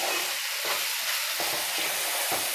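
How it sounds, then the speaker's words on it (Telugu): Sliced onions frying in oil in a pan for a fish curry, the fat separating as they finish; a steady broadband sizzle runs throughout, broken by a few sharp stirring strokes at regular intervals, with no talking. "ఉల్లిపాయ అంతా చక్కగా ఇలా ఫ్రై అయిపోయి ఆయిల్ మొత్తం వదిలేసింది"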